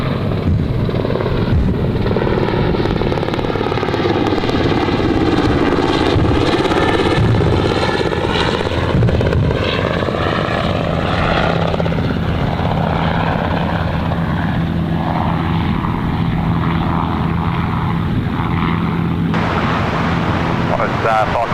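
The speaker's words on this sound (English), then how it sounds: "We've got our Mustang and Spitfire here." Mustang and Spitfire warbirds perform at the Pacific Air Show at Gold Coast Airport, their propeller engines producing a loud, sustained drone that sweeps in pitch as they pass, with a lower steady hum beneath.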